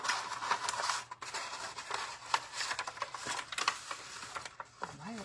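Scissors trim a paper bag witch hat in a run of quick, close crisp snips and paper rustles, while a person talks intermittently over the cutting.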